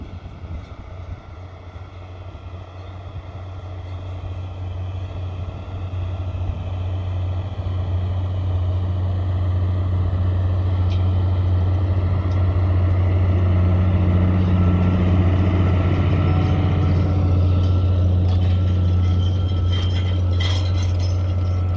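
A tractor pulls a 14-row drag harrow across a field in spring at about 8 to 9.5 km/h. Its engine drones steadily and loudly, building over the first seconds and holding near and continuous with wind rumble and no speech.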